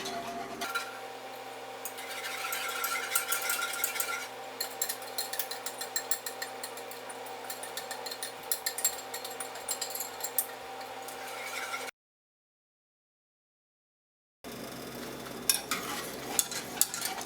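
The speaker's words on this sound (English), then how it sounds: "You're going to continue to whisk, and you're going to see it thicken." A whisk works steadily through a thickening sweet mixture in a saucepan, giving a fast, continuous scraping and clicking that runs close and fairly loud, breaks off briefly into silence, then resumes.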